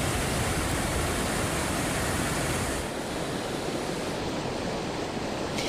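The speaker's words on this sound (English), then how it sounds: "You can see the water and the mud really bubbling up, and it was really rushing about an hour ago." Floodwater and mud churning loudly after a storm near a bridge in Malibu, Southern California, during flash flooding. The roar is broad and continuous and fills the whole stretch, easing slightly partway through, with no voices.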